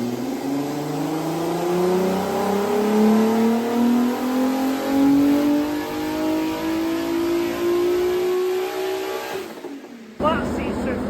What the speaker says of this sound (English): seems to rev through